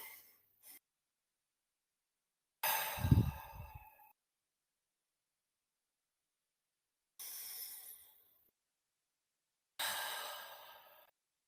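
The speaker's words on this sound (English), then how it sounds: "let's take a couple of deep breaths together" Deep breaths drawn in and let out slowly, three long airy exhalations with a short one at the start, spaced apart by silence, close and fairly soft, with no talking.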